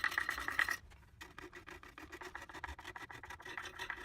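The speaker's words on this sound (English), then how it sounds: "So we'll just continue scraping along using the curved shape" A hand scraper rasps rhythmically across a carved black walnut wooden spoon in quick, close strokes, a soft dry scratching that pauses briefly and then resumes in a steady series.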